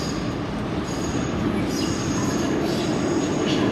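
A metro train at a station roars steadily and close by, with the rumble of wheels and a faint high squeal running over the whole stretch.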